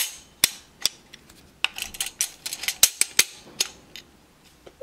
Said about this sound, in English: a good thing to help put in the buffer system is a flathead screwdriver, so you can stick that down in there